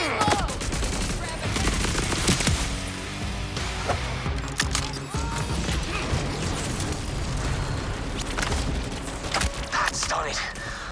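Rapid bursts of video game gunfire from Borderlands 4 during a meat-grinder mission, with dense overlapping shots and booms that continue without pause, loud and close throughout.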